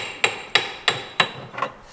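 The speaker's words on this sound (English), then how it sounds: "Use my brass hammer and we're going to try to get the..." A brass hammer strikes a part on an MGB banjo rear differential five times, each a sharp, loud metallic blow spaced about a third of a second apart, and the last hit lands slightly softer and doubled.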